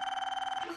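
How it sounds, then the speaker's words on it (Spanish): A telephone bell rings in a rapid, steady trill, close and fairly loud, cutting off abruptly after under a second. "qué suerte que suena el teléfono"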